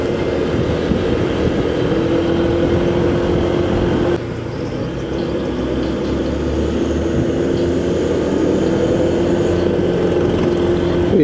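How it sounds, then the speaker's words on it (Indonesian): Train rolling through a railway tunnel near Kebasen, a steady loud rumble with a low drone and faint tonal whine, continuous throughout without pause, no talking. "Itu dia kereta api yang melewati terowongan kereta api sebelah sana teman-teman."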